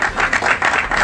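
Applause greeting opposition politician Jean-Claude Wemba, president of the MPCR, at a public press forum: a dense, steady wash of many hands clapping close by, continuous for about a second with no voices.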